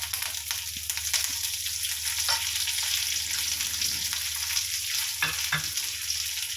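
Mustard seeds, fenugreek and curry leaves frying in hot oil give a steady, close sizzle with a few sharp pops and crackles scattered through, with no voices.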